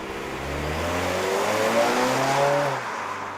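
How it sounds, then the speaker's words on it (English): A 2025 Mazda3 Carbon Edition sedan engine revs up steadily with rising tone, close and fairly loud, holding a smooth mid-pitched drone before easing off slightly. "It's time to drive the 2025 Mazda 3 Carbon Edition sedan."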